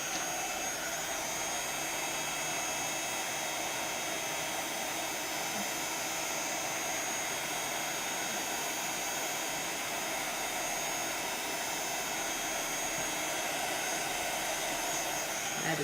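A heat embossing tool melts powdered snow embossing powder on a card, giving a steady, loud, unbroken whooshing hiss from start to finish with no voices.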